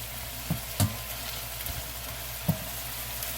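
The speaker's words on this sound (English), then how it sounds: "sort of stir frying here." Steady sizzling of beef, pasta and vegetables stir-frying in a hot pan, with a few sharp clacks of a utensil stirring and scraping.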